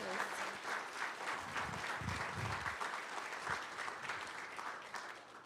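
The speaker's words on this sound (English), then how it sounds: "Let's give her a great big round of applause." Steady applause from the audience at a county school board meeting fills the room at moderate level, continuous throughout with a few low thumps and rustles.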